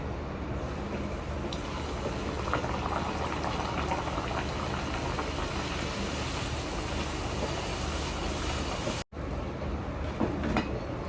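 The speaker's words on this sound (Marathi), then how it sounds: "इथे बघू शकता मी इथे पुऱ्या लाटून घेतल्यात. तर आता आपण तळूयात" Rolled puris frying in hot oil, giving a dense, steady bubbling sizzle that stays close and fairly loud throughout, with one very brief dropout near the end.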